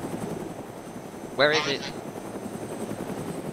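A helicopter in the video game DayZ thrums steadily overhead, its rotor drone continuous throughout, while a voice briefly speaks over it.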